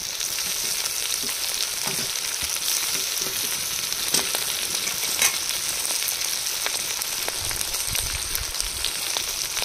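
Ginger-garlic, cumin and chili pastes fry with onions in a pan outdoors in a field, a steady crackling sizzle with scattered stirring scrapes and a few louder pops, with no talk.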